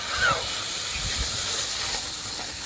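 Liquid milk pours into a hot pan of lightly fried semolina and hisses steadily, a loud, even sizzle held for a few seconds with no speech over it.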